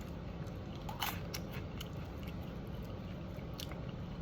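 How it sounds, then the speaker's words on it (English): Close, quiet munching of dry Honeycomb corn cereal, with a few sharp crunchy bites standing out over a soft, continuous chewing texture. "They crunch down like a corn puff."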